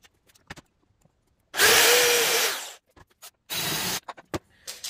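A power drill bores screw holes into IKEA shelving parts during assembly: two loud whirring bursts, the first about a second long and the second shorter, with small knocks and handling noises around them.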